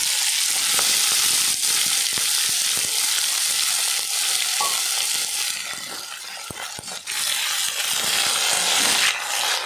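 Taro stems hit hot oil already holding kalonji, dried chili and garlic, setting off a loud, steady sizzle with stirring scrapes on top, close and continuous throughout.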